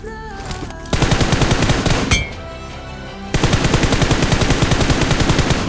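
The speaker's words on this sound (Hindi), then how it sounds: "लेफ्ट से फायर है मेरे।" Automatic gunfire in a battle royale video game scrims match, with loud rapid bursts that start, pause briefly, then resume as sustained dense fire for several seconds.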